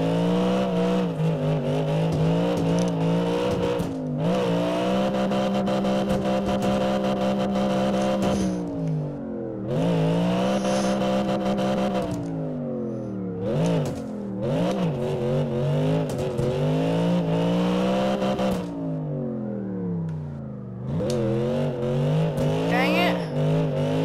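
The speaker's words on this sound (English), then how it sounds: "This is my second time ever drifting in first person, I think. Like, actual proper drifting on a track." A car drifting around a track from the driver's seat, its engine revving and wailing up and down steadily through the lap, loud and close with changing pitch as the throttle is worked.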